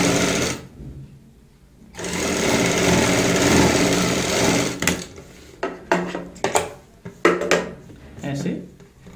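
A sewing machine runs a long basting stitch through cushion cover fabric in one steady burst lasting a few seconds, then the stitching stops and leaves short clacks and handling noises of the cloth and machine.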